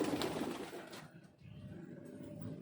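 Soft pigeon cooing, a low murmuring coo close by with faint background noise.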